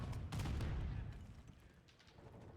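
Dense bursts of rapid gunfire ring out during a Call of Duty esports finals match between Toronto Ultra and Atlanta Faze. The shots are loudest early on and blend into a busy wash of game sound.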